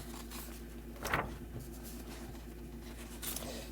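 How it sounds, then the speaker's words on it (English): Papers rustle and shuffle on a desk during a differential equations lesson, with a brief louder crinkle near the middle and another toward the end over a low steady room hum. "I'm going to be shuffling a little bit through my papers for just a quick second"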